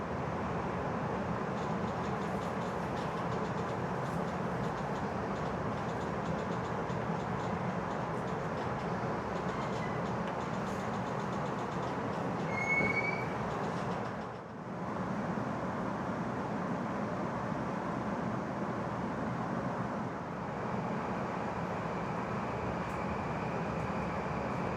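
An 11-car train runs steadily near Taura Station in Japan, a continuous rumbling roll with faint high squeals from the wheels, heard from close by and alone for most of the stretch.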